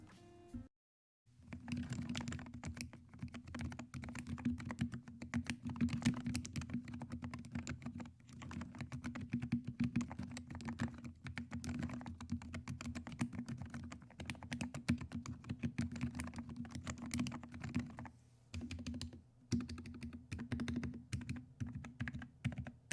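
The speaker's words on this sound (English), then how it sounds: "I will do a sound test with my modded keyboard." Rapid, deep, thocky keystrokes on a modded Nuphy Air 60 mechanical keyboard clatter continuously for about twenty seconds, with a short pause near the end.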